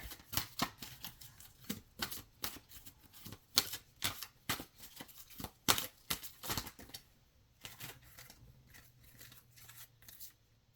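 Oracle cards being shuffled by hand in a quiet room, a rapid run of soft, close papery flicks and riffles that thins out and stops partway through.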